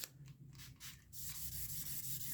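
Sanding the painted body of a Stratocaster guitar, quiet repeated rubbing strokes close by, slow and uneven at first, then settling into a faint continuous scrubbing.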